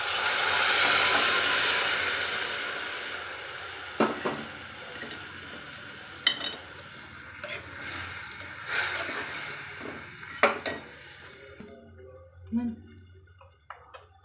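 Cooked drumstick pods dropped into a simmering curry and stirred: a soft hissing bubble at first, then scattered spoon knocks and clinks against the pot, with intermittent talk.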